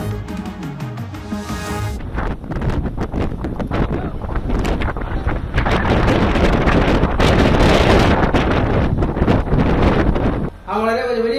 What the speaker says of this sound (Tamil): சென்னையில் காலை முதலே இருள் சூழ்ந்து பலத்த சூறை காற்று